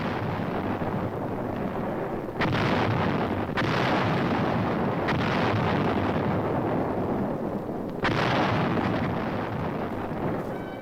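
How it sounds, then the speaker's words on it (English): 155 mm artillery guns firing in the Korean War, a dense continuous roar of loud blasts with several sharp bursts standing out at intervals, no talk. "Our 155's blast evacuated Wijeonbu."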